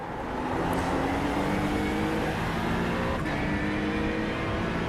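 A BMW M4 race car engine roars steadily at close range on the Nürburgring GP circuit in a racing game, holding a sustained high drone with a brief rising shift partway through.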